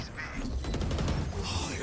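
Sniper gunfire rings out during a Valorant esports match, a burst of sharp shots and clatter layered under an excited voice calling out.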